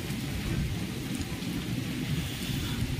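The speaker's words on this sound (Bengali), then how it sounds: "কত জোর বৃষ্টি হচ্ছিল, আকাশও ঝপাং ঝপাং করছে, আকাশও বিদ্যুৎ চমকাচ্ছে ওপরে এখনো।" Heavy rain pours down in Dubai with a dense, steady roar and low thunder rumbling underneath, constant through the short stretch.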